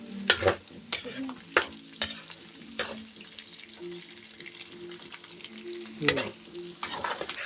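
Pansit mixture with lechon being stirred in a hot pan: a spatula knocks and scrapes in several sharp clanks over a soft, continuous sizzle, close and fairly quiet.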